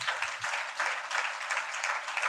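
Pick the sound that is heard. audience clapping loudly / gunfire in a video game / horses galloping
audience clapping loudly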